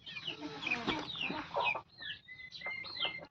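Kadaknath chickens in a shed, several birds clucking and calling in short overlapping bursts, close and fairly loud, with higher chirps in the later part.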